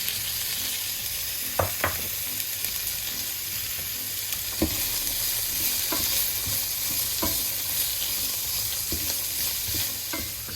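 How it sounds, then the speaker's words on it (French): Sliced courgettes and red pepper frying in oil in a pan, a loud continuous sizzle with a few scattered utensil clicks and stirs, and no talking. "J'ajoute les courgettes."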